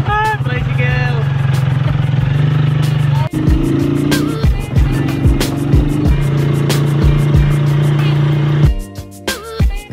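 A motorized tricycle engine drones steadily nearby on a city street, its low hum running through the whole ride while people talk over it and brief knocks and clatters break in.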